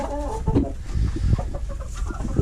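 Hens cluck in a chicken coop, several birds close by with short, repeated calls overlapping across the whole stretch, no voices.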